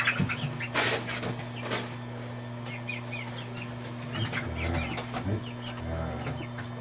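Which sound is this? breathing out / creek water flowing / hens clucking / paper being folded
hens clucking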